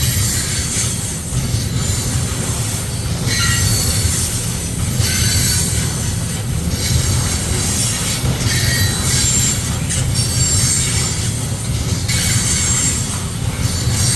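A loaded freight train of ethanol tank cars rolls steadily past near Sioux City, with continuous rumbling rail noise and high metallic wheel squeal throughout, no voices.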